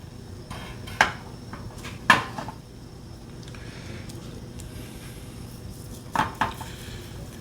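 A spatula pushes an omelet's uncooked egg to the side of a pan, with a few sharp clinks and scrapes against the metal over a faint background hum, no talk.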